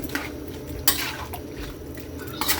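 A pot of ginataang langka, a Filipino jackfruit and coconut milk stew, gets its lid set on with a few metallic clanks and scrapes over a quiet simmer, close by.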